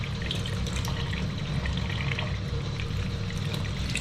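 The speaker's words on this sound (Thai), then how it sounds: "ต้องล้างให้สะอาดแบบนี้นะคะ" Running tap water pours steadily over crabs being washed clean in a sink as part of preparing pickled egg crabs in fish sauce, a continuous close splashing trickle with no talk.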